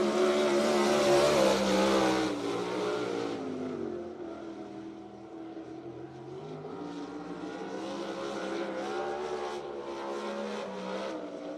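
A race car on a qualifying lap at BAPS Motor Speedway, a dirt track in York Haven, Pennsylvania, roars loudly past, fades as it moves away around the oval, then its engine note swells again in the distance.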